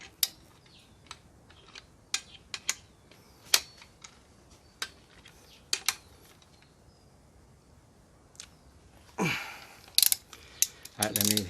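A torque wrench clicks and ratchets in scattered bursts while bearing bolts on a G23 VTEC engine are tightened, close and fairly quiet, with a rapid ratcheting run near the end.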